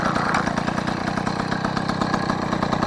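A Peugeot 103 SP moped engine idles steadily close by, a rapid, even two-stroke putter with a slight knocking rattle and no talk over it.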